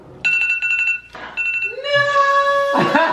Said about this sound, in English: Their timer is done!